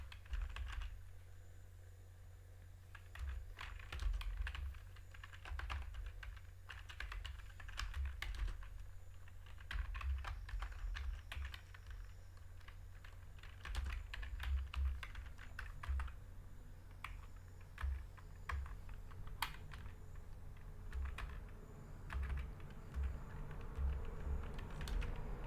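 Computer keyboard typing while entering table data for a database, with irregular bursts of clicky keystrokes and short pauses, close and fairly steady for the whole stretch.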